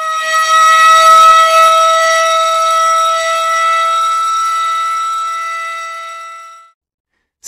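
An engine room foam alarm sounds as a loud, steady electronic siren tone with strong harmonics, holding for several seconds before cutting off abruptly.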